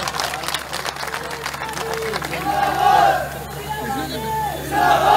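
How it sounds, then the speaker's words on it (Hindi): Crowd at a political speech in Mathura, Uttar Pradesh, applauding and cheering in a sustained, swelling wash of claps and voices that rises toward the end, with no speech over it. "अब तालियां तो आपने बजाई"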